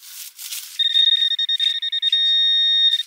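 Metal detector giving a sharp high electronic tone over buried iron in a field, broken pulsing beeps that settle into a steady sustained whine, loud and close after brief rustling.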